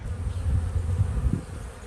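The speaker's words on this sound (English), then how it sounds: "these are the chillest bees" Honeybees buzzing steadily around a hive box on a homestead, a dense, close, continuous drone with no voices.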